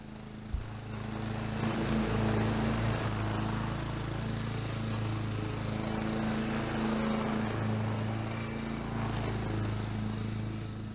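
Honda HRX 476 lawn mower running steadily while cutting grass in a garden, a continuous loud engine drone with a low hum and a whirring blade, close by with no talk throughout.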